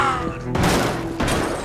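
Shotgun blasts in Red Dead Redemption 2 during a door-breaching fight: two heavy broadband booms about half a second apart, loud and close, with a voice murmuring underneath.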